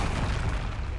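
Expelliarmus spell cast in Hogwarts Legacy: a short, dense magical blast with a booming, rumbling burst that fills the whole second at steady loudness.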